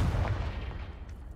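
A Confringo fire spell blast in Hogwarts Legacy lands as a short, deep, rumbling boom that fills the low end and fades briefly, with no voices over it.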